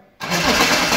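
After a quiet moment, a BMW 7 Series engine suddenly catches and roars to a loud, steady run up close.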